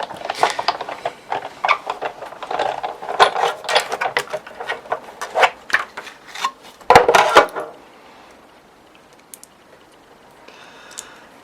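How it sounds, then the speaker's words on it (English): A Tattered Lace Trio Flower die is cranked through a die cutting and embossing machine, giving a dense, fast clicking rattle up close for about seven seconds before it stops and leaves near silence. "And just pop it through the machine"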